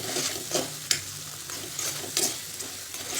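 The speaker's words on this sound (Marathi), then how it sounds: "त्या भाज्या थोड्याशा स्मॅश करायच्या" Vegetables for pav bhaji are mashed in a pan, with rhythmic pressing and scraping strokes roughly every half second over a faint background sizzle. No one talks.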